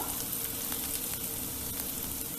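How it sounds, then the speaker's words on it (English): Onions and capsicum frying in a pot for soup, a steady close sizzle and crackle throughout with no talk. "cook till the onions and the capsicum become soft"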